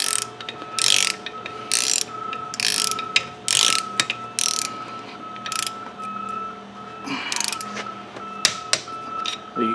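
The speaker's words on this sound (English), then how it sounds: "we're going to torque these in a crisscross pattern" Bursts of ratcheting clicks from a torque wrench tightening engine bolts on a Polaris Ranger 500 during a top end rebuild, several quick runs in an uneven rhythm, close by with a faint hum underneath.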